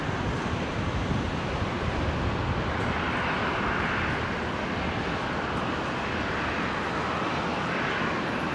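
A Qantas airliner lands on runway 19 left at Brisbane Airport, a loud, unbroken broadband roar of engines and wind rush that holds steady throughout, with no voices.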